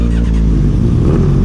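A motorcycle engine revs steadily at close range with a full, rumbling tone as the ride gets underway, continuous across the short moment with no voices.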